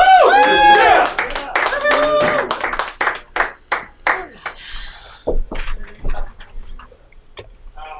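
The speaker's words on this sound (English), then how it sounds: "give a round of applause for Ray Arebalo" A comedy club audience claps for a comic after a brief announcing voice, giving a few seconds of sparse, crisp hand claps from a small crowd that thin out and fade.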